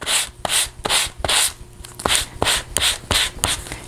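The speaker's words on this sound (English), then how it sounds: "hit the edges with my sanding sponge" Rhythmic dry rubbing strokes, about a dozen quick passes of a sanding sponge against paper edges, close and steady with no talking.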